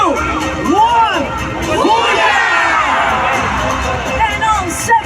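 Large spectator crowd cheering at Singapore's National Day Parade as naval divers land, loud continuous roar with children's high shouts and whoops rising and falling throughout.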